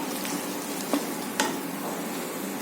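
Asafoetida tempering sizzling in a pan of hot oil, a steady, moderately loud crackle with two brief sharper clinks of a spoon stirring, no voices.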